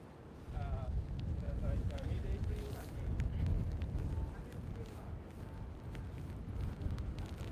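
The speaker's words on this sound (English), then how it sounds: "Wow, a lot of wind today." Gusty wind buffets the microphone outdoors near Tokyo Station, a rumbling low roar that swells and eases over several seconds, with faint city noise underneath.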